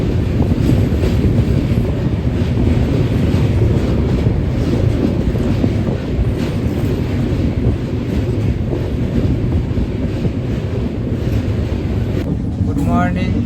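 A moving passenger train on a long rail journey, its steady loud rumble and rattle filling the whole stretch with wind buffeting, a faint squeal rising near the end.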